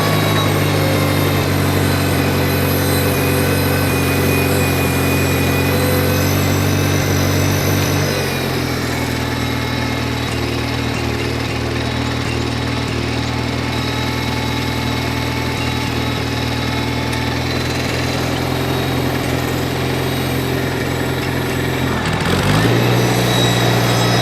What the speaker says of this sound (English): Even with a warped carburetor, 2 gaskets, running great.